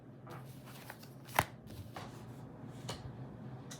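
Tarot cards shuffled by hand, a quiet close riffling and soft slapping with one sharper snap partway through, no voices.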